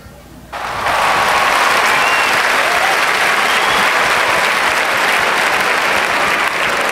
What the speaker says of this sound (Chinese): 请大家掌声鼓励